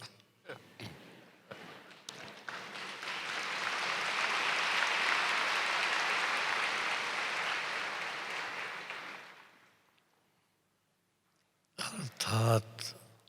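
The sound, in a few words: audience applause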